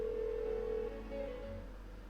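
A phone rings unanswered in Persona 4 Golden, a steady electronic ring tone held for nearly a second, then quieter broken tones over a low hum.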